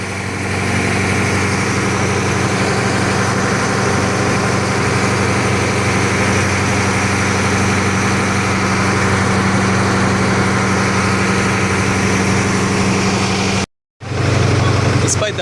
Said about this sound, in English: you probably can't hear me because of this massive engine